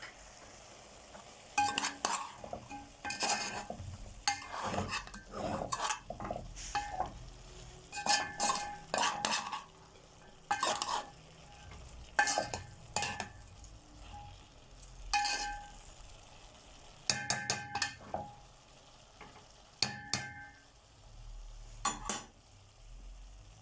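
Chicken liver sautéed and stirred with black pepper, cumin, ground coriander and seven-spice in a pan, giving a steady run of scraping spoon strokes and clinks over a soft sizzle, close and fairly loud with no talk.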